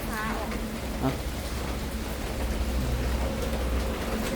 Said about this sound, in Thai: ฝนตกหน่อย